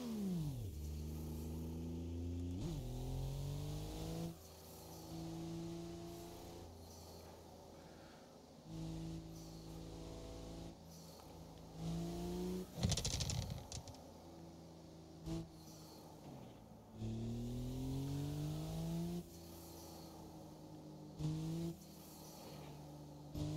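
BMW M240i with a B58 inline-six driving on roads in Japan, heard from inside the cabin: repeated rising revs through gear changes, with a louder hard-acceleration burst midway and brief lifts between pulls.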